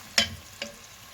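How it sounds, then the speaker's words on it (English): Chopped onion stirred in a hot pan as the base of a chicken curry, two short scraping stirs with a soft sizzle, close and fairly quiet. "it's time to add in some onion. I'll just mix it until it becomes golden brown."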